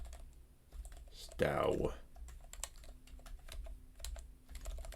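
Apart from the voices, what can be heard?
typing commands on a computer keyboard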